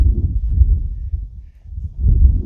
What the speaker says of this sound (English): Sorry about the wind, but it blows